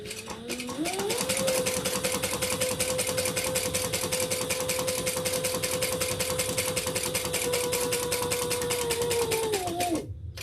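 A sewing machine back stitching a handbag runs in one continuous fast whirring burst of about nine seconds, with a steady rapid needle rhythm that winds up at the start and stops abruptly near the end.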